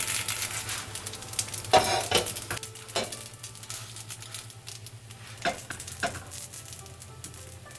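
Elk dumplings browning in a pan, sizzling under repeated scrapes and clinks of a utensil against the pan at uneven intervals; close and fairly loud, with no one speaking.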